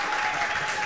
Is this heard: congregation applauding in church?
yes